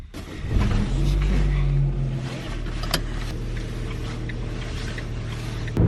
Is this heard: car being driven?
yes